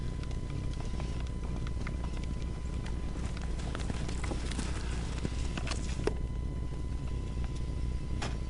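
A Missouri Foxtrotter horse, ridden bridleless, walks with soft rhythmic hoof clip-clops on the ground, faint and steady against light outdoor background noise.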